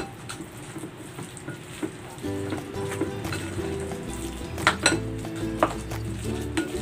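A spoon mixing flaked bangus (milkfish) with two eggs in a bowl, repeated close clinks and scrapes in uneven rhythm, fairly quiet with no talking.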